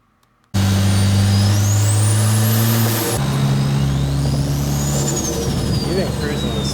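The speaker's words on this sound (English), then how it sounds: "That nice flutter sound from the blow-up valve" A Ford Fiesta ST with a large 4-inch intake accelerates hard from a sudden start, the turbo whistle climbing over the engine drone, then a gear change where the blow-off valve flutters before the spool rises again.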